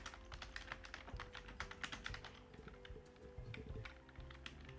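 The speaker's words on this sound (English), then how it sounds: "Bubble Baby is typing" Fingers type on a computer keyboard in a quick, uneven run of close, crisp key clicks, faint and continuous with a brief lull near the middle, under a low steady hum.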